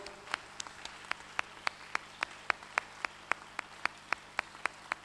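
A church congregation claps in unison at a sermon, with sharp, evenly spaced beats about four per second, fairly faint, over a low background hum.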